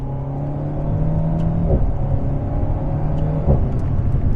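Alpine A110 Première Édition sports car engine running steadily at close range, a continuous droning hum with two brief surges in the middle and near the end, no voices over it.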